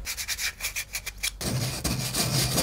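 Sandpaper rubs rhythmically along wooden edges of a base board and lumber pieces for a wooden lantern, quick close scratchy strokes followed by longer steady scraping passes.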